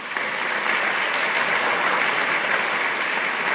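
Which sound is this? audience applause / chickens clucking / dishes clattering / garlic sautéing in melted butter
audience applause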